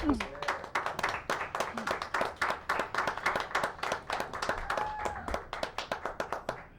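An audience claps for the parks, recreation and community services director at a community event, with sharp, distinct individual claps in a quick, uneven rhythm that stay close and fairly loud throughout.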